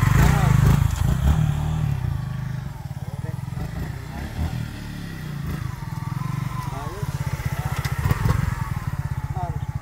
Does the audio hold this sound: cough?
no